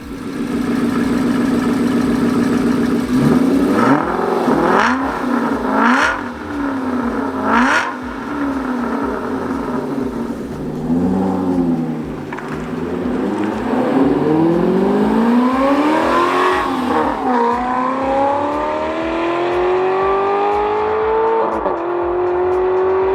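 An Aston Martin V8 Vantage S with a partly non-stock exhaust idles loudly, then revs repeatedly with rising and falling engine pitch and a sharp blip, close and sustained throughout.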